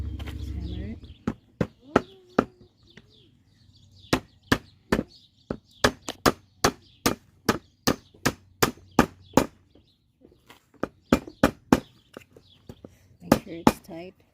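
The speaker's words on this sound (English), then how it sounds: "let's hammer it." Sharp hammer strikes on Radio Flyer wagon parts during assembly ring out in irregular bursts, some quick double and triple blows, close and loud over a quiet background.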